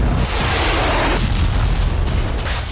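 An Iskander missile strikes a thermal power station in Kharkiv, producing a loud, sustained rumbling blast that roars for several seconds and fills the low end without easing.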